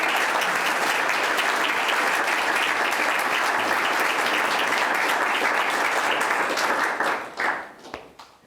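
A conference symposium keynote audience applauds in a steady, dense wash of clapping that holds loud for about seven seconds, then thins into a few scattered claps and fades out.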